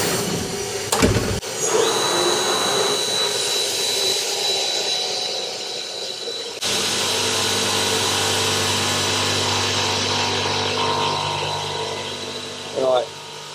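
Machining an aluminium suspension arm for a Lamborghini Murcielago GT1, a steady mechanical whir and hum of the machine running continuously, with a shift in tone partway through and a brief clatter near the end.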